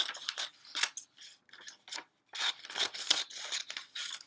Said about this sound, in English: I cut them into pieces